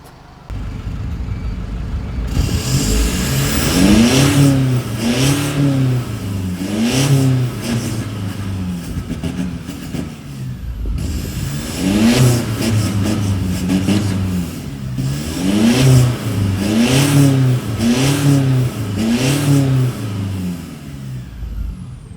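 A modified car with a mid-muffler exhaust revs repeatedly and loudly at close range, each blip rising and falling in smooth, soft-toned bursts separated by brief pauses, with no talking.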